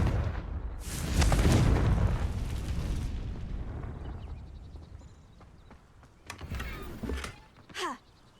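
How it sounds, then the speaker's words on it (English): Confringo fire spell blasting rocks in the game Hogwarts Legacy, a loud rumbling explosion that swells and slowly fades, followed by a few sharper crackles and debris sounds. "Confringo!"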